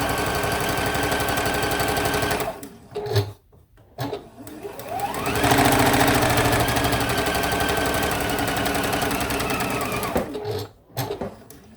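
A domestic sewing machine stitches a heart appliqué onto a quilt block, running in steady bursts with a constant mechanical whir, pausing briefly twice before starting up again, close and clear.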